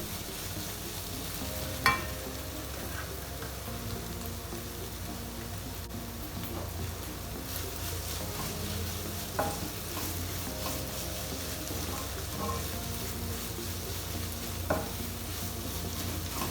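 Christmas cutlet mixture sizzles quietly in a hot pan while a spoon stirs it, giving a continuous low crackle with a few distinct taps and scrapes spaced through it.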